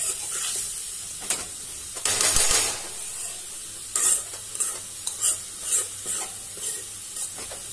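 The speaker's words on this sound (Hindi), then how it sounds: "इसको हम गोल्डन होने तक" Capsicum sizzles and fries in a pan while a utensil stirs it, with repeated scraping strokes and hissing bursts over a constant low crackle.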